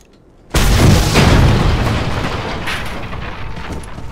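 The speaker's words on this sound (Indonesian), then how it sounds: "Jadi kita harus meledakkan pintunya." A sudden loud boom from a door being blown open in the video game Mad Max bursts out after a moment of quiet, then rolls into a long, roaring rumble that slowly fades.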